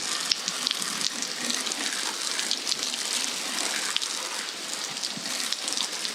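Water sprayed as simulated rain over two Cardo Packtalk Bold and Slim motorcycle intercom units during a waterproof test; a steady, close hiss of spray runs continuously throughout with no voices.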